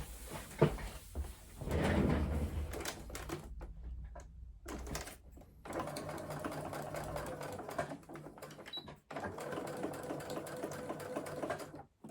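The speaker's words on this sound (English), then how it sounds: "I'm going to sew along here and along here" A sewing machine stitches an inside pocket of a crossbody bag, running in several steady whirring stretches broken by brief stops and small clunks.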